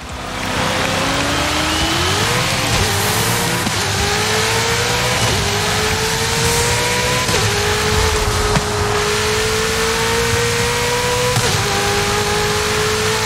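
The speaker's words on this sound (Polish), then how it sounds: "Zobaczmy, zobaczmy, co ten samochód potrafi." A new Ferrari in a video game accelerates hard, its loud engine note climbing and dropping back at each gear change, then pulling up again in a continuous, close roar with no voices.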